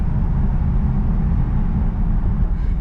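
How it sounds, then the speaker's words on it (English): The engine of a McLaren 570S Spider drives with the roof off on a rough road, a loud, steady low rumble that stays even throughout with no voices. "just the sounds that come out of this engine with this roof off, they're just glorious"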